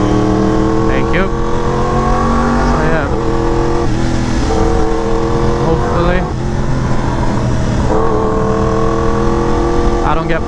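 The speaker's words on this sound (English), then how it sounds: "I forgot how loud this bike is until I started riding again." Loud motorcycle exhaust while riding, a dense engine roar with rising and falling revs and gear changes, close and continuous throughout.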